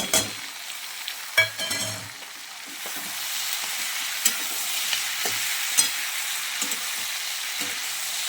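Tomatoes and green chillies for Maggi noodles fry in a pan with a continuous bright sizzle, a splashy burst as they go in at the start, then scattered spoon scrapes and taps, close up and without speech.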